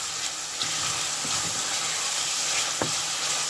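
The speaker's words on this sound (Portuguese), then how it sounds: "vamos seguir fritando aqui." Ingredients for Spanish black rice frying in a pan, giving a steady, bright sizzle and hiss with a few soft stirring knocks, close and continuous, with no voices.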